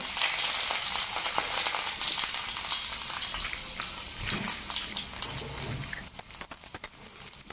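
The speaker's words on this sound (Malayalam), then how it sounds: "എണ്ണ ചൂടായി വരുമ്പോഴേ ഇങ്ങനെ ചെറുതായിട്ട് അതിന് സവോള അല്ലെ ചെറിയ ഉള്ളി ഇങ്ങനെ ഇട്ട് കൊടുക്കാം" Small onions frying in hot oil give a steady, close hiss and crackle of sizzling that continues throughout, with faint clinks near the end.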